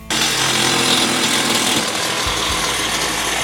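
A power tool cuts out a metal floorboard for a shop stool, giving a loud, harsh, continuous grinding roar up close, with a couple of brief dips near the end.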